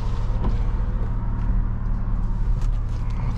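A BMW E36 328i with a manual gearbox idling steadily after starting up warm, a low, even engine hum close by with a few faint clicks, alone without talk.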